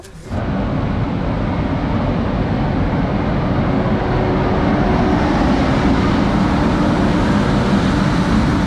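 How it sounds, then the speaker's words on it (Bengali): Kolkata Radhikapur Express arriving at Azimganj Junction, a loud, steady rumbling roar that stays constant throughout, with no voices. "কলকাতা রাধিকাপুর রাধিকাপুর এক্সপ্রেস আমার চলে এসেছে ঠিক আজিমগঞ্জ জংশনে"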